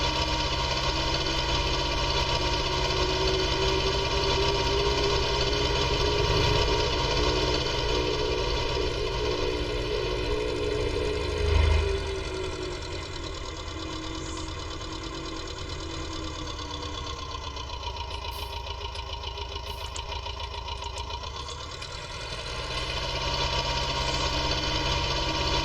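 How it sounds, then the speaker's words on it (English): A farm tractor's engine drones steadily as it climbs uphill, a loud mid-pitched knocking hum that dips briefly before returning to its constant labouring tone. "Get ourselves heading uphill now, so the tractor should slow down soon, I think."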